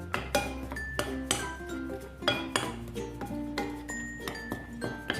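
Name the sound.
stirring cireng nugget mixture with spices in a bowl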